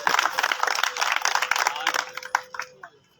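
Audience applause at a pigeon flying association prize ceremony in Chiniot: dense, continuous clapping from a crowd that stays loud, then thins and tapers toward the end.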